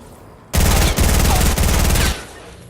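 Rapid automatic gunfire in Fortnite Battle Royale: a loud, close burst of fast shots that starts abruptly, breaks off briefly twice, and stops after about a second and a half.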